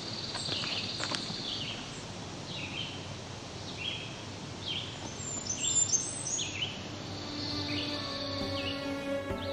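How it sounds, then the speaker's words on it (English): A Blackburnian warbler sings high, thin repeated phrases over steady background ambience, with other birds calling nearby, including a trilling pine warbler and a red-eyed vireo. "And that there is the Black Burnian warbler"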